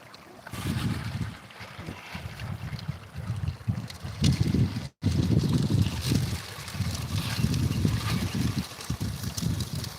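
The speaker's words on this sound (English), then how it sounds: "Sluice box action." Water rushes and gurgles steadily through a sluice box at Lawsons Bar, running loud and close with a brief break midway and no talk.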